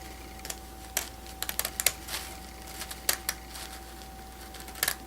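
A pair of scissors snips fine wire in a series of sharp, close clicks, some spaced singly and some in quick bursts, against a faint steady hum.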